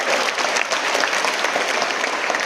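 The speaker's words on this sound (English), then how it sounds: "Give a big round of applause for Dr. S. Radhakrishnan" Students at a Teachers Day school assembly give a big, dense round of applause, continuous and loud throughout with no talking over it.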